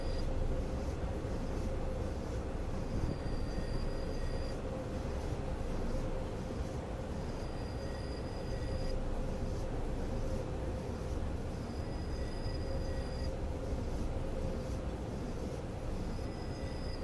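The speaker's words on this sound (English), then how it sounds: "Brilliant train simulator driving." A Swiss train in the Train Simulator Classic game running steadily with a continuous loud rumble and roar, under a faint high tone that comes and goes at regular intervals.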